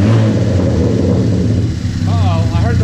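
Turbocharged Chevrolet Cobalt engine revving up loud and close, a steady rising growl that holds for a couple of seconds, with a voice briefly over it near the end.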